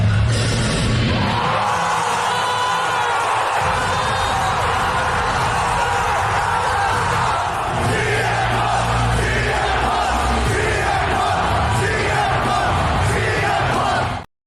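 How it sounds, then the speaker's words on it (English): Wrestling crowd in a Chicago arena cheering CM Punk's return, a dense roaring wall of yells and chants sustained loudly for the whole stretch without a pause. "The crowd in Chicago, always delivering."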